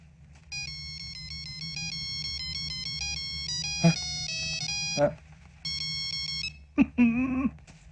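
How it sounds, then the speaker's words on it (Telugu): A melodic electronic mobile phone ringtone plays in repeating phrases in a film scene, interrupted by bursts of nearby voices talking over it. "Ring tone sir, ring tone."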